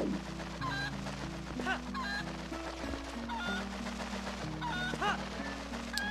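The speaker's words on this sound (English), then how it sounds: "We gotta pick up the dumb chicken one more time." A chicken in the Zelda: Twilight Princess video game clucks several times in scattered short bursts, faint and set under continuous game music.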